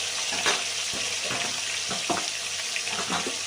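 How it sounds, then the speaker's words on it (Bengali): Ritha sea fish frying in raw mustard oil in a pan, a steady close hiss of sizzling with occasional pops and soft stirring clinks. "তো দেখো ভাজা হচ্ছে"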